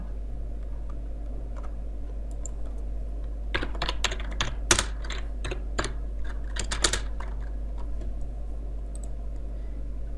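Fingers type code for mathematical expressions on a computer keyboard, in a cluster of quick, crisp key clicks through the middle of the clip. A steady low hum runs underneath and nobody speaks.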